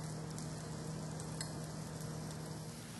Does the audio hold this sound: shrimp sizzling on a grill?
yes